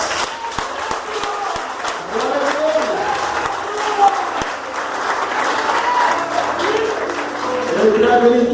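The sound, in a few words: congregation applause in church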